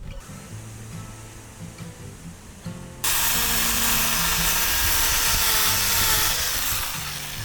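A chainsaw carves into a pumpkin, starting abruptly about three seconds in as a loud, steady, close engine roar that holds to the end after quieter handling noise.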